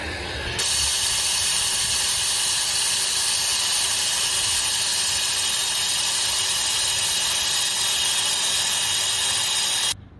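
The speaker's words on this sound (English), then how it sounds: "we're gonna go ahead and steam extract" Steam extraction cleaning inside a car, a loud steady hiss and whir of the extractor running continuously for about ten seconds with a faint mechanical tone, starting and stopping abruptly.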